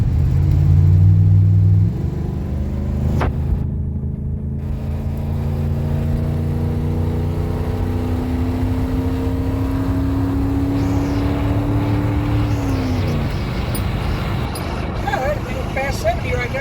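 Ford F-150 accelerating hard down a flat, straight road, engine note rising steadily in pitch through a long pull before easing off near the end, heard from inside the cab with talk over it.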